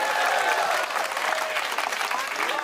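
An audience at a Hindi comic poetry gathering applauds loudly and steadily, a dense wash of clapping from a large crowd that carries on without pause, with voices faintly mixed in.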